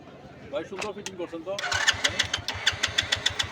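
Someone speaks briefly, then a motorcycle ridden by a small boy in Sreemangal starts up and settles into a close, evenly pulsing idle with regular thumping beats.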